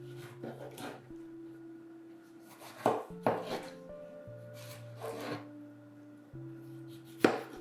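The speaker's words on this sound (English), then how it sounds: "The first thing I'm gonna do is just gonna roughly chop 2 tomatoes." A knife roughly chops two tomatoes on a cutting board in a home kitchen, a few spaced knocks and scrapes sounding close over a faint steady hum, with no talking.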